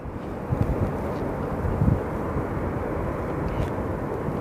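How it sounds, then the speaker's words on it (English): Southwest Airlines airliner rolling past on the ground at Phoenix Sky Harbor Airport, a steady, moderately loud low engine rumble with a broad whooshing wash and no talk over it. "the plane we saw go in front of us is actually Southwest 4300 going to El Paso"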